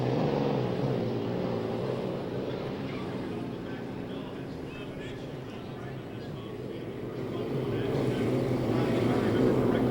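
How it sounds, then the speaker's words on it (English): A classic hydroplane racing boat roars on the water, a deep, broad engine rumble that dips slightly and then swells louder as it passes at a moderate distance. "Imagine 5 hydroplanes like that racing along the race course."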